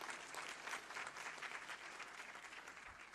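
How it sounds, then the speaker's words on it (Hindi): An audience at a state-level good governance day ceremony applauds to welcome the chief minister, a steady sustained wash of many hands clapping, somewhat distant and even in level. "ऐसे सुशासन के नेतृत्वकर्ता माननीय मुख्यमंत्री महोदय का एक बार तालियां बजाकर स्वागत"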